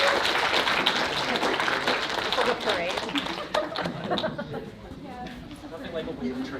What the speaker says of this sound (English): Get some more claps.